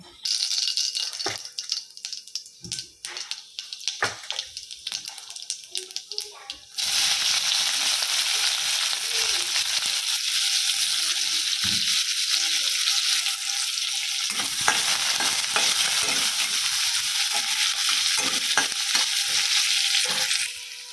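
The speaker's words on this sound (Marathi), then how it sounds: "कांदा भाजून झाला आहे" Chopped onion frying in a pan for a hadga flower bhaji: scattered clatter and stirring at first, then a loud, steady hiss of sizzling oil that holds continuously to the end.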